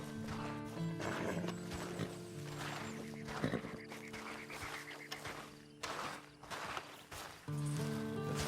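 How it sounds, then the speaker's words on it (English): A horse walks with soft clip-clop hooves and snorts in the Red Dead Redemption 2 video game, set against ambient outdoor sound. "Then you better get on this horse."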